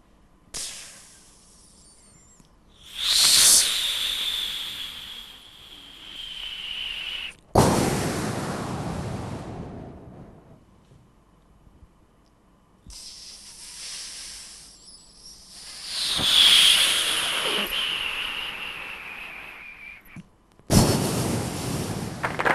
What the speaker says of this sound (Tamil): அந்த வான வெடிகள்லாம் வெடித்தா எப்படி இருக்கும் அப்படிங்கிற சின்ன கான்செப்ட்